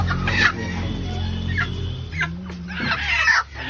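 Chickens cluck repeatedly at a local chicken farm in Assam, several birds close by over a steady low hum, with short louder cackles coming in bursts.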